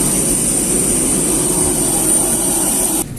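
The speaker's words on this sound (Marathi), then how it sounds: "विमान" Loud, steady roar of an airplane jet engine at an airport, a broad continuous rush with a high whine on top, holding level for about three seconds before cutting off abruptly near the end.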